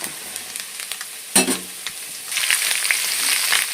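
Onions frying in a pan for tamarind rice, a steady close sizzle with a sharp clatter near the start as they go in, then louder crackling frying toward the end.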